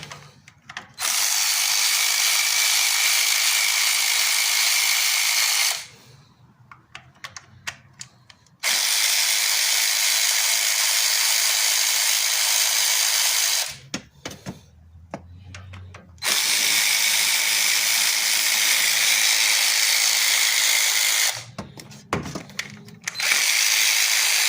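An Earthquake XT impact wrench with a 10mm socket removing ignition coil bolts on a 2012 Toyota Prius C, three loud sustained whirring bursts separated by short pauses with light clicks and handling noise.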